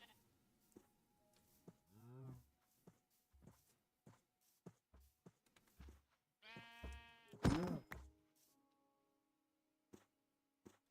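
Sheep in a video game bleat a couple of times, one short call and then a longer, louder one, over faint scattered footsteps and clicks.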